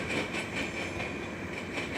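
A CN freight train rolls steadily past close by with a continuous rumble, rattling wheels and a thin high whine, holding at a constant level throughout.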